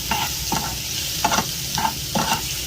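Chicken with black pepper and onion frying in a little oil in a pan, stirred with a steady sizzle underneath and several distinct scraping stir strokes at irregular intervals, close by with no talking.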